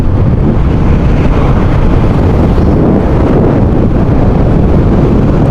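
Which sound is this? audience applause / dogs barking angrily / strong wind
strong wind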